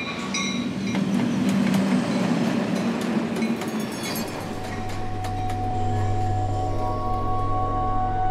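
A train rolls along its rails with a steady, loud low rumble, rhythmic clicks and faint metallic squealing tones, heard up close and continuously without speech.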